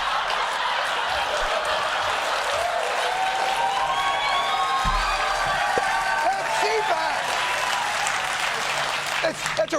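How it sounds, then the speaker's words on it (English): An audience at a lobbyist speaking event cheers and applauds steadily for about ten seconds, a dense wash of clapping with scattered chuckles and murmurs mixed in. "they cheered for Trump's impeachment, not realizing that you were calling for the counter"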